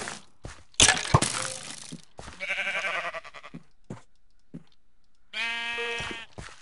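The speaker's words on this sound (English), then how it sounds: "Punch that sheep." Sheep in a Minecraft modpack game bleat twice, a short harmonic bleat mid-clip and a longer one near the end, between sharp punching and breaking clicks and thumps with gaps of silence.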